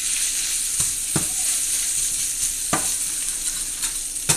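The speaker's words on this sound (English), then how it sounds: "That's some loud sizzle." Close, steady sizzle of onions frying in butter, broken by a few sharp scrapes and taps of a utensil stirring the pan.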